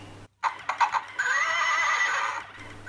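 A horse neighs loudly in a long, wavering whinny lasting over a second, preceded by a few short snorts or hoof sounds, with no talk.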